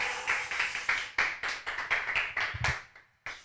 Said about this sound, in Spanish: Si puedes, aplaude.